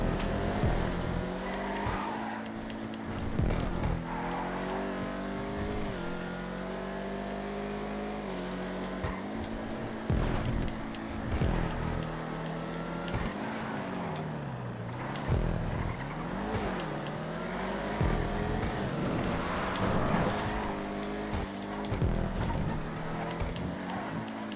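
Vigero muscle cars racing in GTA 5, engines loudly revving up and down through gear shifts with tire squeals and skids, continuous and close.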